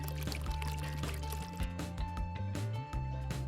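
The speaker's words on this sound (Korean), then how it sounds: "에스프레소에 얼음을 넣고 오렌지즙을 부어주세요." Fresh orange juice poured over espresso and ice for a cocktail, a steady close liquid pour with some clinking and splashing, fairly loud and continuous without speech.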